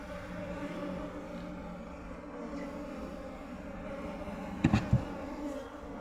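A steady, fairly quiet buzzing of honeybees hums throughout as a colony is moved from a clay pot into a hive box, with a couple of brief knocks near the end.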